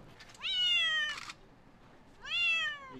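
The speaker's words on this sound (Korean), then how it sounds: "길고양이 민원 순위 중 높은 비중을 차지하는 것은 바로 고양이 울음소리다." A stray cat meows twice on a city street, each call a clear, rising then falling cry with a short gap between them, close and prominent over faint background noise.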